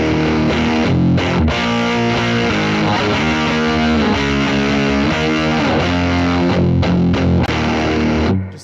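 Electric guitar played through a JHS PackRat distortion pedal, an op-amp style distortion with heavy low end: loud, thick, saturated chords and riffs ringing continuously without pause before cutting off at the end.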